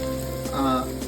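Onions sizzling and frying in a pan with bay leaves and cardamom for Assamese mutton curry, a steady close hiss that swells briefly midway, with no talk.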